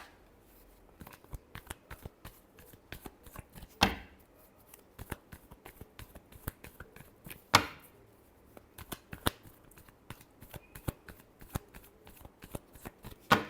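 Tarot cards being shuffled by hand during a Taurus love reading, a steady run of crisp riffling clicks and flutters with a few louder snaps, close and clear with no talking.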